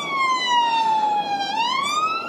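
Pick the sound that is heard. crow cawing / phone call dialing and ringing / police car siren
police car siren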